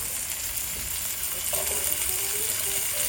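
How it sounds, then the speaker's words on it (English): Celery, carrots and broccoli sizzling in a hot stir-fry pan, a steady loud frying hiss throughout with faint scraping of stirring midway. "Now we're going to cook our vegetables, which include celery and carrots"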